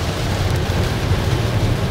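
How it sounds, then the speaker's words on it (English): Steady rain hisses continuously, a dense wash of drops with a low rumbling undertone, fairly loud and close. "It just started raining."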